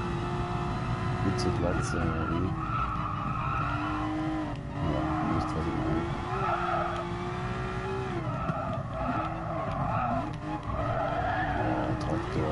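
Porsche 911 GT3 RS engine in Gran Turismo Sport on the Nordschleife, a steady droning race-car engine with tonal revving rises and falls and brief tire skids throughout, loud and continuous under someone talking.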